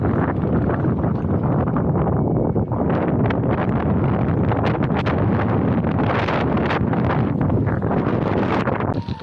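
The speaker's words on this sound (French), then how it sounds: "Est-ce que vous voulez voir le vent?" Strong wind buffets the microphone while cycling along a gravel path, a loud, continuous roaring rush with gusty surges throughout and no voices.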